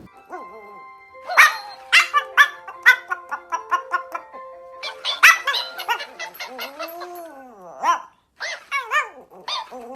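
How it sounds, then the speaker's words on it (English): A dog dressed in a sheriff's outfit barks and yips in quick, loud bursts close by, with stretches of rapid repeated barks and a few drawn-out whining howls between. "here's a dog dressed in a sheriff's outfit"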